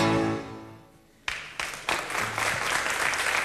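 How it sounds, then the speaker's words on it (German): Audience applause breaks out after an acoustic pop song performed by Volkwin & Co., starting with a few sharp claps and swelling quickly into steady, loud clapping from a large crowd. "Das ist der Applaus, der muss sein"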